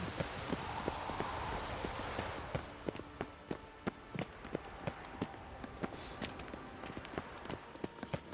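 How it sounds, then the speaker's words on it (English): Rain falls in the video game The Witcher 3, a close, steady patter of drops on surfaces, joined partway through by a clear rhythmic clip-clop of horse hooves. "Rain like this would fetch a fortune in Zerrikania."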